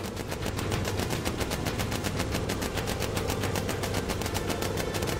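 Rapid, relentless machine-gun fire from bomber turrets in the video game Bomber Crew, a dense unbroken rattle of bursts holding steady and loud throughout.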